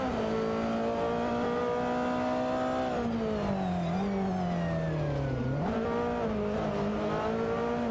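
Racing engines from a Nissan GTP ZX Turbo and a Porsche 962C Longtail in a video game scream steadily, the pitch rising and dipping through shifts and a deep drop before climbing again, loud and constant.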